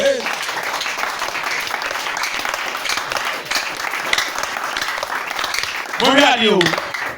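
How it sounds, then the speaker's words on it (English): Church congregation clapping together, a steady rhythmic wash of many hands over several seconds, with a voice rising near the end. "Clap for Jesus"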